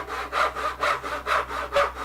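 Back-and-forth strokes of a hand saw rasp through wood, cutting along a knife-marked line in about five even, rhythmic passes, close up with no talking.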